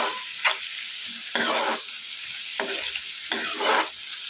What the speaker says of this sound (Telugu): మూత పెట్టుకుని వేయించుకోవాలి ఇదంతా కూడా బాగా దగ్గరకు వచ్చేంత వరకు కూడా ఫ్రై చేసుకోవాలి